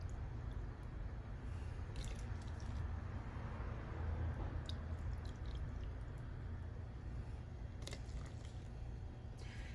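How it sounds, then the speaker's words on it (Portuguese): Water being poured into peach cake batter: a quiet, continuous liquid pour with a low, wet churn, scattered small drips and squishy splashes, steady throughout with no voice. "aqui eu vou colocar 2 medidas de meia xícara de água"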